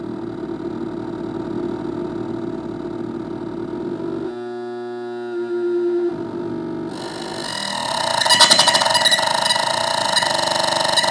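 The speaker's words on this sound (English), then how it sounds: "So you can get real low rumbles." A circuit-bent active feedback looper produces a low droning rumble with steady tonal layers that cut out abruptly, then return and give way to a louder, brighter buzzing feedback texture.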